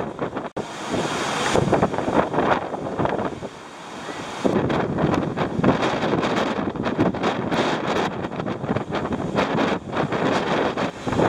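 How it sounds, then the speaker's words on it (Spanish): A strong north wind buffets the microphone beside a rough, choppy sea, with heavy roaring gusts and crashing surf that are loud and continuous apart from one brief lull. "el mar muy movido, viento norte muy fuerte"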